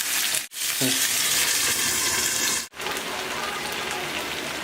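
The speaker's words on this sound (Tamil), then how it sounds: "தவாவில் போட்டிருக்கேன், நல்லா ஃப்ரை ஆயிடுச்சு." Fish frying in oil on a flat tawa gives a loud, steady, close sizzling hiss, broken by two brief gaps where the sound drops out before resuming.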